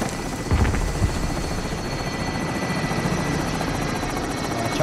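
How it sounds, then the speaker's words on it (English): A helicopter in the Call of Duty Modern Warfare video game drones and thumps steadily and fairly loud for the whole stretch, a continuous rotor buzz with no voices over it. "Got a helicopter flying."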